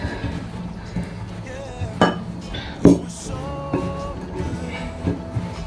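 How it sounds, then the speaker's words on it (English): Cucumber and apple salad is tossed in a bowl, giving scattered clinks and scraping knocks of utensils against the dish at an irregular pace, fairly close, with faint background sound between strikes. "I'll give it a mix before I add in the fried Viennas."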